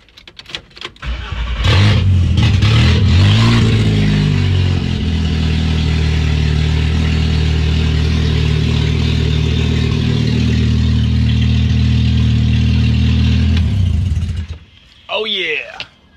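A repaired VW MK5 Jetta engine cranks, catches and settles into a loud, steady idle with a few revs, running close and smooth for about twelve seconds before shutting off, followed by a brief exclamation.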